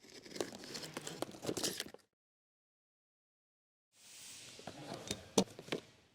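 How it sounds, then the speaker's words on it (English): Packaging for a brake caliper piston return tool for a 2015 Ford Explorer is torn and crinkled, close and fairly faint in irregular bursts, broken by a two-second silence before the handling resumes. "Brake caliper piston return tool unboxing."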